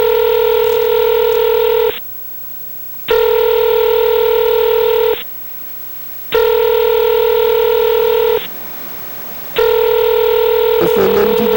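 A telephone line rings in a repeating cadence, loud steady tone bursts of about two seconds each separated by short silent gaps. Four rings sound, then a faint click and a brief voice as the call is picked up.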